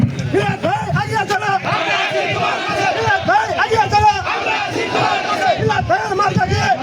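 A crowd at a BNP election campaign rally in a village in Dewanganj loudly chants a party slogan in unison, voices rising and falling in rhythmic repeated phrases with steady crowd noise throughout.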